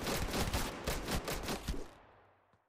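Gunshots from a gun in a video game, a quick run of about eight loud, evenly spaced shots that ends abruptly and trails off into a brief fading tail.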